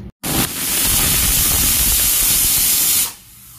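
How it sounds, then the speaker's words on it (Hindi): A pressure cooker releases one loud, steady jet of hissing steam while cooking cauliflower. The hiss starts abruptly, holds for about three seconds, and then fades away. "मैं फ्लावर को प्रेशर कुकर में दे के 3 या 4 सीटी लगा लूंगी।"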